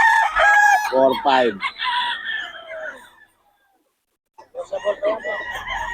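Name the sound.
rooster crowing, Lemon Sweater bloodline gamecock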